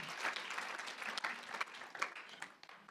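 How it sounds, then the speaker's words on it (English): An audience at an award ceremony claps, a fairly quiet, uneven round of applause with a few sharper individual claps that tapers off by the end. "We can applaud also the answer."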